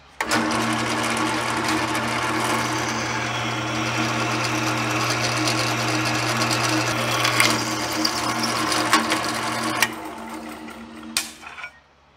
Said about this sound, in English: let's drill this 5/16